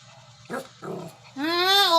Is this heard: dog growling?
yes